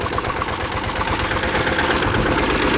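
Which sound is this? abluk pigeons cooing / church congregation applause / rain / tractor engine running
tractor engine running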